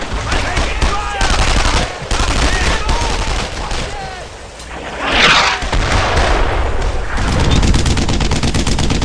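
Brothers in Arms 2 combat gunfire: loud, dense bursts of rapid machine-gun and rifle fire run almost continuously, with a heavier boom partway through.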